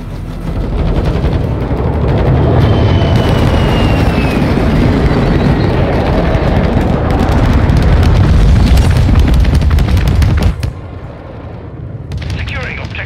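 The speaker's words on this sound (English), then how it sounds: "Bombing run inbound." Heavy explosions roar from a bombing run in Call of Duty Modern Warfare II, a loud, continuous barrage of booms and blasts for about ten seconds before cutting to quieter battle noise, with radio voices talking.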